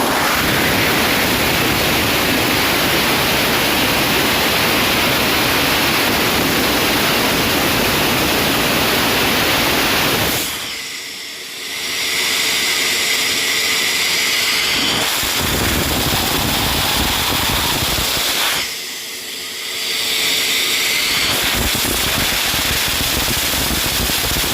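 A carbureted engine running steadily with the choke on, a loud continuous roar that dips twice for a moment before resuming, with no voices.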